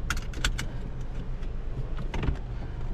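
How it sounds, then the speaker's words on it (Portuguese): A seatbelt is fastened inside a Fiat Pulse car, with a few close metallic clicks and rattles of the buckle and webbing over a low cabin hum and no talk. "Deixa eu colocar o cinto aqui."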